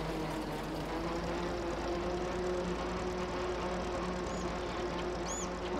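Small old farm tractor engine idling roughly, a steady low mechanical chugging at moderate distance with a few faint high squeaks over it and no talk.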